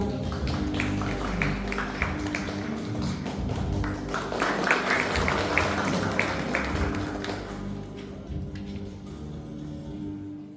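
An indoor audience at a Maeil Shinmun 80th-anniversary photo exhibition at the Daegu Culture and Arts Center claps steadily for about eight seconds, then the applause fades out.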